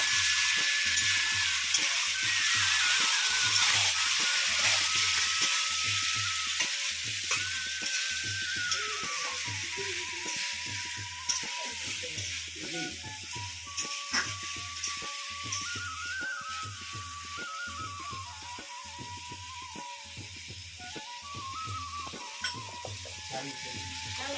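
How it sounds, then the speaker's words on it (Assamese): Duck curry ingredients sizzle steadily in a pan, with a utensil scraping and stirring in a regular rhythm of repeated strokes throughout, close and moderately loud with no talking. "এতিয়া এনেদৰে অলপ সময় ভাজিব, লৰাই ভাজি ৰাখিব।"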